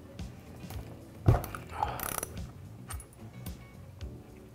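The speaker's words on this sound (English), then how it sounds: "this bracket, which has an 8mm bolt," A hand ratchet loosens an 8mm bolt on a bracket holding the actuator valve of a 4L60E transmission, giving a close series of quick clicking pawl ratchets with a sharp knock at the start.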